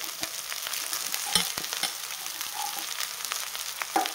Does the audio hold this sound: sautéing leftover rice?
yes